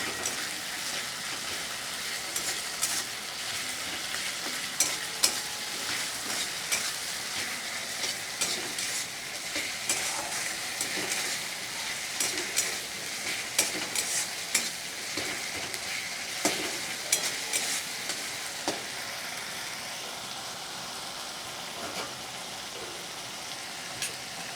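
Ginger paste sizzles in a pan with onion and garlic for a rui fish and potato curry, a steady close frying hiss broken by the scrape and clatter of stirring, no voices.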